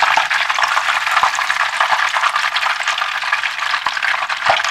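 Loud, continuous crackling sizzle of breaded chicken cutlets frying in hot oil in a frying pan, with scattered sharp pops throughout and no voices.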